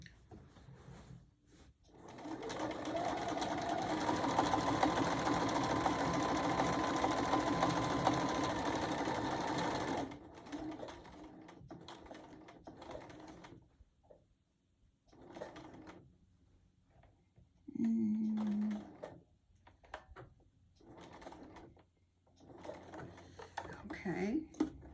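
A sewing machine stitches straight quilting lines, a steady close mechanical whirr running for several seconds before stopping, with someone talking between and over later shorter bursts of stitching.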